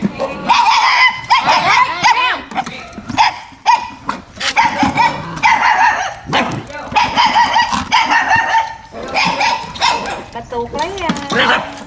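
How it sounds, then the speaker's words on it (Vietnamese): Several dogs bark repeatedly outdoors during a Tet-day release of sea creatures near mangrove forest, the barks rising among steady nearby talk from a group of people. "ra chặn mấy con chó ông lại đi"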